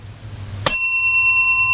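A bicycle bell gives one bright, loud ring that cuts in suddenly after a low hum and then rings on with a clear, sustained metallic tone.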